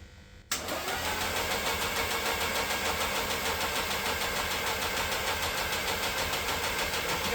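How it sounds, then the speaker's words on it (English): After a brief quiet moment, the starter abruptly cranks a turbocharged race engine and keeps it turning in a steady, loud, sustained rhythmic churn without catching. "Let's turn it over again."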